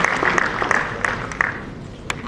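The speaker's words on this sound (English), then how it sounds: "Let's give him another round of applause." An audience applauds a speaker at a formal gathering, with moderate, fairly sparse clapping that thins out toward the end, a few sharp individual claps still heard.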